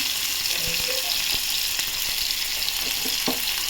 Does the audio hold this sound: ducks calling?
no